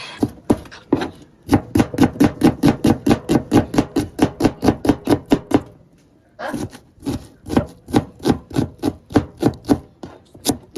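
Onion chopped with a knife on a cutting board for Ethiopian tikil gomen, a fast, even run of sharp close thuds that pauses briefly midway and then resumes at the same brisk rhythm, with no talking.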